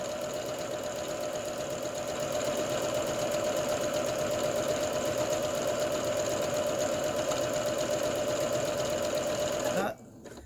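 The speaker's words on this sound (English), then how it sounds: "you're basically just going to sew all the way around" A sewing machine runs in a steady, fast continuous whir while stitching around a crochet sole, then stops abruptly near the end.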